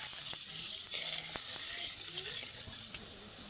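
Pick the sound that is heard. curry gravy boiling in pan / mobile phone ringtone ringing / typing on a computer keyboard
curry gravy boiling in pan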